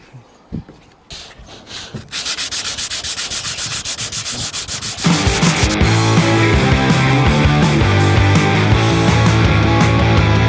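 Hand sanding of wood with a sanding block: a few scattered scrapes, then steady rhythmic back-and-forth strokes, followed by louder, denser continuous rubbing, close and with no speech.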